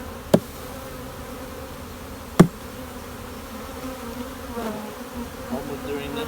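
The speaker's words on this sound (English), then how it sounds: "bees get ticked off" A dense swarm of honey bees hums and buzzes steadily during a hive rescue, the agitated drone close and continuous, punctuated by two sharp knocks early on.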